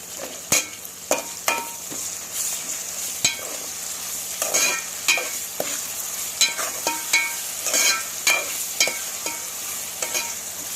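Oil sizzles steadily as washed prawns fry in tempering for gongura prawn curry, with repeated scraping strokes of a spoon stirring through the pan, close and fairly loud.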